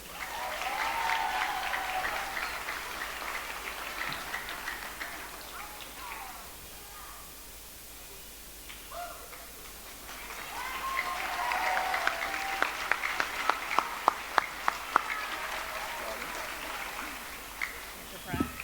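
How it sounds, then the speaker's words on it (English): Applause from an audience at a fifth grade graduation ceremony at Rosewood Magnet school, rising in two long swells of clapping with a quieter lull between, with sharper individual claps near the end and voices mixed in. "another big round of applause"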